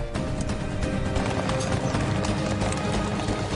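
Horse hooves clatter in a dense, continuous rush during the Sedilo Ardia horse race in Sardinia, loud and close amid crowd noise.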